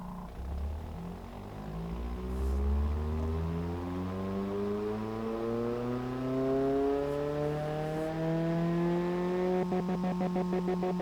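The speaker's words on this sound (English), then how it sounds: "press start, it will basically dyno the engine" A car engine in the video game Automation revving steadily upward on a dyno test, a smooth, continuous rising whine climbing in pitch over about eleven seconds, loud and alone with no speech.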